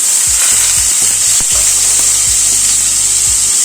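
Diced sweet potato drops into a hot pan and bursts into loud, close sizzling frying, with a few sharp spatula scrapes and knocks breaking through the steady hiss, no voices.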